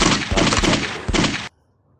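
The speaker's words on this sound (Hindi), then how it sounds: "उधर चल रही हैं गोलियां" A loud burst of rapid gunfire, several quick shots in a dense volley, cutting off abruptly into near silence.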